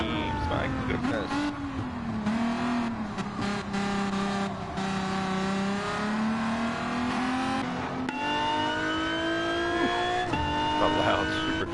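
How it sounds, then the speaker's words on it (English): A naturally aspirated race car at a live-stream drag race screams and revs hard, its loud engine note rising and falling throughout, with several cars audible and people talking over it. "Man, his car just screams."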